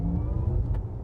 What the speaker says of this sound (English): So all you get in this is a more spaceship type acceleration sound.